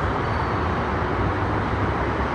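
Steady roar of car traffic and tyre noise from an evening road in Dubai, a continuous unbroken wash of sound with no single vehicle standing out, heard alone without voices.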